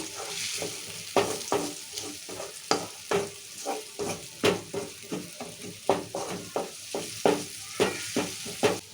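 Ivy gourd curry with turmeric stirred in a pan: rhythmic, evenly spaced scraping strokes over a soft background sizzle, close and moderately quiet.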